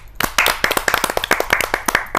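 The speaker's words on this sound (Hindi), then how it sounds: "तालियों की गड़गड़ाहट से स्वागत करते हैं" Audience at a Hindi-Urdu poetry gathering claps to welcome a poet, a brisk run of sharp, fairly close hand claps that starts abruptly and continues evenly.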